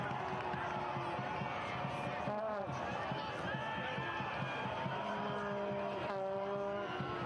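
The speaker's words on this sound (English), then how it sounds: "Crowd trying to help their team through the final 7." Stadium crowd at a soccer match cheering and roaring continuously at a distance during a late corner kick, with a commentator talking over it throughout.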